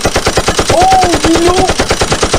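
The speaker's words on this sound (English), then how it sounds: "The 2 times I got gunned down had good audio." Rapid machine gun fire from a blocky video game. The fast, evenly spaced bursts hammer on without a break, loud and close, and short tonal blips rise over the middle of the barrage.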